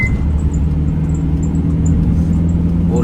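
A car overtaking a truck on the road, its engine a steady close low hum and rumble with tyre and road noise, holding an even level throughout with no voices.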